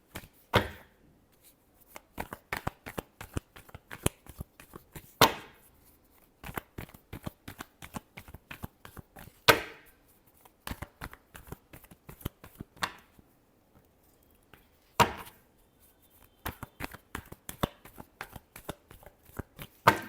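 Tarot cards shuffled by hand in repeated crisp riffling bursts, each run of rapid flicks ending in a louder snap, with short pauses between rounds; close and clear, no talking.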